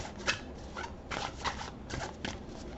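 Cards are shuffled softly and repeatedly, a riffling patter in quick bursts, close but fairly quiet, with no voices.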